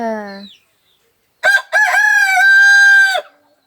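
A rooster crows loudly nearby: a short call cut off, a pause, then a long, full cock-a-doodle-doo that holds before dropping away.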